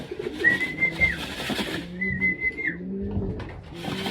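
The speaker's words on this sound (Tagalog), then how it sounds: "So ayan mga kalapatids, kompleto na yung mga ibon natin." Pigeons coo in soft, low rolling calls, a few overlapping phrases repeating close by, with faint higher whistly notes above.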